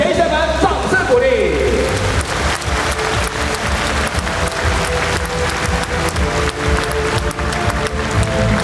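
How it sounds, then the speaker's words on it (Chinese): Audience applause for volunteers at an award presentation in a large arena, a dense sustained roar of many hands clapping, loud and continuous, with a few voices briefly audible near the start. "给我们的前贤们掌声鼓励"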